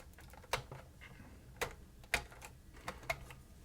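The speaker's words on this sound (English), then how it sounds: "We pry them off with this plastic" A plastic pry bar popping connectors off inside a high-end Denon audio unit, giving five or six sharp, close clicks spaced irregularly over a quiet background.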